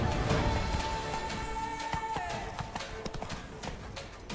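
Roach the horse galloping in The Witcher 3: a rapid, rolling clip-clop of hooves, fairly close, with a brief voice over the hoofbeats.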